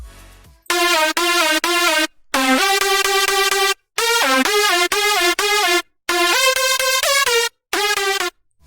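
A bright, buzzy synth lead made in FL Studio Mobile plays a melody in short phrases, notes sliding and bending in pitch, loud and close with brief silences between phrases.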